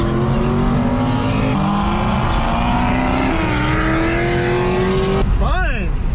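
Rear wheels of a heavily modified 800-horsepower Infiniti G37 spin with a loud, continuous tire squeal over a high engine roar, the pitch climbing steadily before breaking off abruptly near the end.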